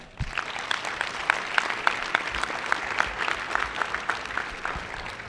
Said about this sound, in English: Another quick round of applause for them.